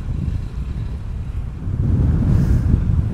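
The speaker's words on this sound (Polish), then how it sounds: "A wiatr wieje." Wind on Lanzarote in the Canary Islands buffets the microphone in a steady low roar, gusting stronger partway through, with no voices.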